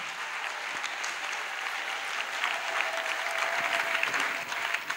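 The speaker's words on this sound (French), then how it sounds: "Acclamation. Clap." Church congregation at a prayer service breaking into applause, a sustained wash of many hands clapping together, fairly distant and even, swelling slightly midway and continuing for several seconds.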